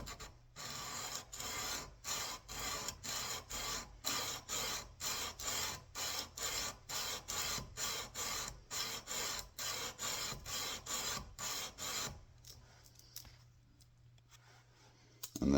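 Wood hand-sanded with 120 grit sandpaper in a groove, about twenty rhythmic back-and-forth rasping strokes, close and fairly loud, then a quiet pause before a brief final rustle.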